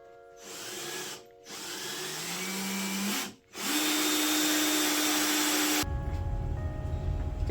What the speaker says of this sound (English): Got my three holes drilled.